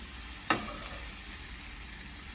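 A utensil stirs food frying in a pan, with one sharp scrape or knock against the pan and then a steady, close sizzling hiss that carries on alone.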